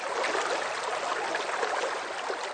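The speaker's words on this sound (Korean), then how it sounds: "물소리는 언제 들어도 시원합니다." Flowing water rushes in a steady, broadband hiss, continuous and fairly close, without a break and with no voices.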